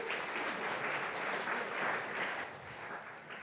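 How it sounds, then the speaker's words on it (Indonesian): A seminar audience applauds with dense, even clapping that holds steady for several seconds, then eases slightly, fairly faint and heard from within the room. "Tepuk tangan untuk Anda semua."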